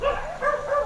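Dogs bark and howl at night in a cemetery, a sustained wavering cry heard at moderate distance with wind noise beneath.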